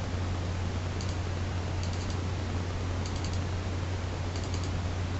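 A computer mouse gives faint double clicks while cells are adjusted in Excel 2010, coming in four quick pairs spaced about a second apart over a steady low electrical hum.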